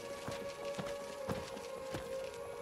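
Horse hooves clip-clop in a video game, a run of soft, evenly spaced thuds under a steady tonal hum and faint background noise.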